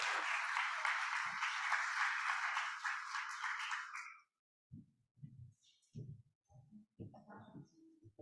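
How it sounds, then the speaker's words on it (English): A big round of applause from the audience at a youth substance-harm prevention event as a speaker named Florence takes the stage, dense clapping for about four seconds, then cut off abruptly, followed by scattered faint sounds. "can you join me with a big round of applause for Florence as she takes the stage?"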